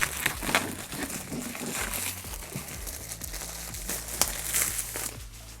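Packaging is torn and crinkled off an Oculus Quest wireless VR headset box, close and fairly quiet, with irregular rustles and crackles throughout.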